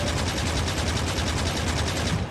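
A gun turret in the Factorio game fires on alien spawners in a loud, rapid, evenly spaced burst of shots that runs unbroken for a couple of seconds before cutting off.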